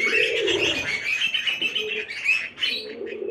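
Budgerigars chirp close by in rapid, high chattering bursts with short warbling calls, continuous through the brief moment.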